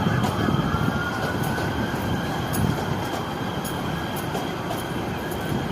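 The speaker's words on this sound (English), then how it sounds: "Commercial plane flying over the Metrolink train" A Metrolink commuter train rumbles past close by with rolling wheel noise and faint squeals, while the steady drone of a commercial plane flying overhead blends into the din.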